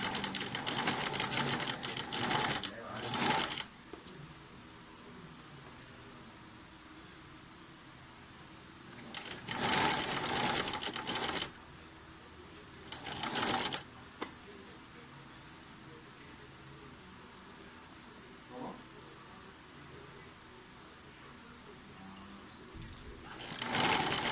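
Sewing machine stitching the sleeve of a jean-style jacket, heard in several short loud bursts of running separated by quieter pauses with light handling noise.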